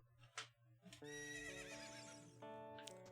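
Horse in Zelda: Ocarina of Time 3D lets out a loud, drawn-out whinny with a falling, wavering pitch, preceded by short clip-clop hoof hits over a low game music bed.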